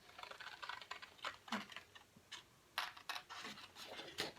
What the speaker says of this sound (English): So I'm just going to real quickly cut this out.